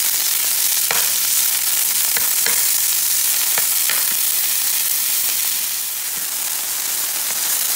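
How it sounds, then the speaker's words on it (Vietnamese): Mushrooms stir-frying in olive oil in a pan on the stove, giving a steady close sizzle and hiss throughout with a few sharp pops and crackles scattered across it. "bắt chảo lên bếp, cho nửa muỗng dầu ô liu, để cho nấm vào xào."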